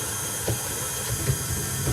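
An electric mixer runs steadily while beating a lemon drizzle cake batter of egg and flour, a continuous whirring drone with faint bumps as the beaters turn, no voices over it.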